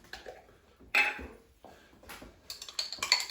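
A spoon clinks and scrapes inside a jar of Weatherby's Tavern mustard, quiet intermittent metallic taps and stirring knocks close by, with brief louder clinks near the end.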